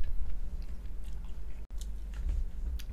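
Wet, smacking chewing of food, close and fairly quiet, a steady run of small mouth clicks and squelches over about three seconds with a brief gap midway.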